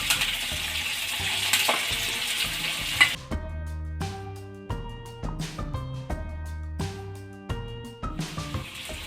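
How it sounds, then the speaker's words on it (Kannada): Chicken kabab pieces dropped one by one into hot oil on a low flame, each hitting with a sharp crackle before a steady bubbling sizzle with light stirring and utensil clinks. "ಈಗ ಒಂದೊಂದೇ ಪೀಸ್ನ ಎಣ್ಣೆಗೆ ಹಾಕ್ಕೊಳ್ಳೋಣ."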